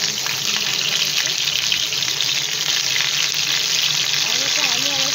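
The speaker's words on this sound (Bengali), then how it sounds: "ফ্রাই প্যানটা আমার পুরো গরম হয়ে গিয়েছে, তো আমি আলু একে একে দিয়ে দিচ্ছি।" Potato pieces sizzle loudly in a very hot frying pan, a dense crackling hiss that stays steady throughout, close and up front with no voices.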